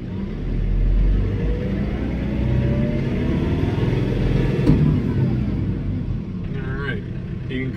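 A John Deere 4066R compact tractor drives off, its engine rumbling steadily and close with a slowly rising pitch, with a brief clunk midway and faint squeaks near the end.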